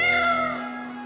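A single short, bright cat meow from the video game Tales of Vesperia: Definitive Edition, clear and close, with a tonal cartoonish quality, fading out after about a second.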